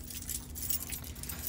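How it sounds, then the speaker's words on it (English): A bunch of keys jangles close up in a continuous metallic rattle with bright high clinks over a low steady hum, and no voices. "I carry a bunch of keys, okay? All these keys."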